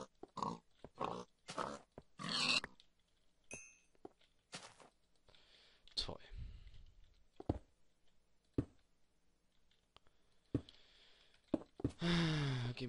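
Pigs in Minecraft give short grunts and oinks, scattered and irregular, fairly quiet, mixed with soft footsteps and thunks from the game.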